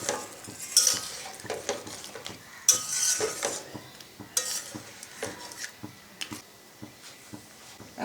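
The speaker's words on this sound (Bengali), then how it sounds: "এই পর্যায়ে আমি দিয়ে দেবো নারিকেলের দুধ।" Coconut milk poured and stirred into a prawn malai curry in a pan, with soft sizzling, scraping and clinking of a spoon against the pan, close and moderately loud, no talking.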